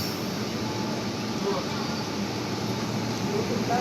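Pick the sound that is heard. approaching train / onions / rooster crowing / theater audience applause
approaching train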